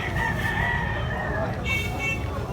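A bullstag rooster crows at a busy chicken market, one long close crow over a dense low rumble of crowd and market noise.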